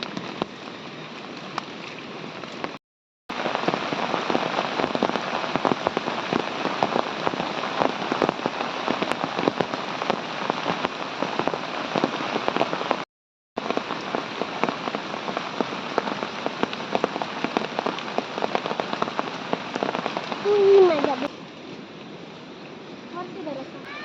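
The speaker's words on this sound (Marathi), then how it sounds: "बारीक बारीक पाऊस लागता" Light, fine rain patters steadily on a nearby surface in the Konkan region, with two brief dropouts and a quieter stretch at the end.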